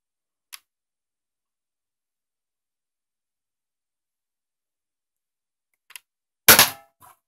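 Nerf Retaliator blaster fired once at a nearby target, a sharp close pop with a short rattle, preceded by a couple of faint clicks in near silence.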